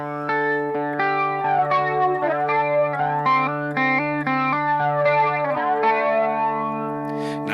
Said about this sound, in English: I've got the effect level up at 70.